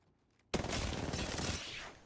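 Sustained burst of automatic gunfire in Apex Legends, erupting suddenly after near silence and hammering rapidly and loudly for about a second and a half before tapering off.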